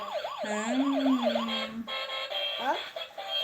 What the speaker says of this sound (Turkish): Bu bir polis arabası.